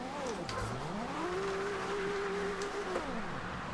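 A Toyota GT86 in FD drift spec, powerful and hard to control, slides through a drift in the rain in a racing game, its engine wailing and swooping up and down in pitch under a steady hiss of spray.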